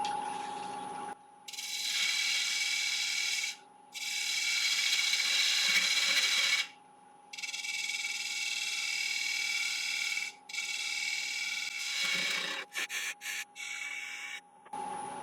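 A wood lathe spins at about 1000 RPM while a half-inch spindle gouge turns a Balinese teak hollowform vase, giving bursts of close, loud scraping and rasping against a steady motor whine, with short pauses between cuts.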